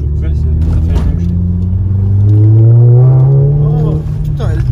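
A Volkswagen Scirocco accelerates hard, its engine note climbing in a loud rising rumble up close, with people talking over it.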